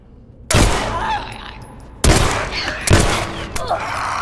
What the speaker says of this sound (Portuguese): Vamos dar um tiro e resolver logo.